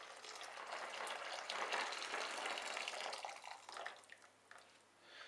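A litre of water pours onto 12 tea bags for tea wine, a continuous soft splashing gush that swells and fades, quiet and close.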